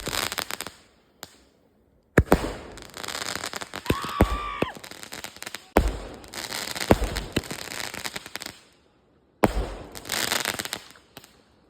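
Firecrackers burst at a midnight birthday celebration, dense crackling volleys broken by sudden silent gaps, with a short whistling rise partway through, loud and close.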